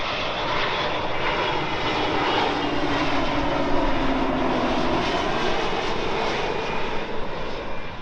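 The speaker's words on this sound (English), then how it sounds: "A320 Neo, British Airways from Düsseldorf" A British Airways Airbus A320neo jet from Düsseldorf roars steadily overhead, a broad continuous engine rumble and whine that holds loud and even throughout, with no voices.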